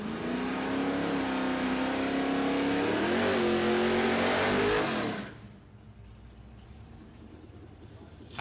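Late-model Commodore drag car, a big heavy race car, accelerating hard down the strip at a drag racing test day, a loud rising engine roar for about five seconds that then cuts off, leaving quieter crowd and track ambience.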